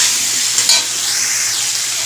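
Curry sautéed steadily in a pan until a thick, lightly coated gravy forms: a continuous close sizzle with a brief louder stirring scrape partway through, no voices.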